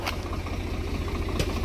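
A vehicle engine runs at a low, steady idle-like rumble while pulling an overturned four-wheeler, nearby and constant, with a couple of brief clicks over it.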